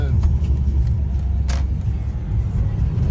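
Car cruising at 262 km/h, a steady loud low engine and road roar filling the cabin throughout with a brief high hiss midway, no voices over it.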